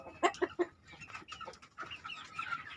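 Chickens on a poultry farm cluck close by: a quick run of sharp calls, then a looser stretch of softer overlapping clucks and chatter, with no talking.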